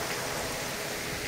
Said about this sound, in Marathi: हा धबधबा असाच खाली जाते.